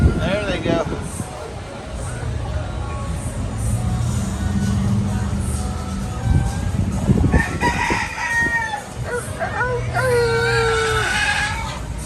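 Roosters and chickens roam a Key West restaurant, with a rooster's crow and scattered clucks rising over steady diner chatter and room noise.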